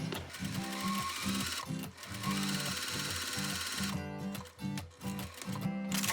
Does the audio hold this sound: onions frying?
no